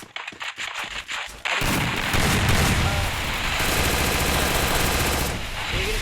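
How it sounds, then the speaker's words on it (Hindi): MP40 submachine-gun fire in a Free Fire-style battle-royale video game, rapid automatic bursts first as separate shots, then a dense, loud, continuous barrage of overlapping gunfire. "MP40 और 2 टैप चला रहे सैम"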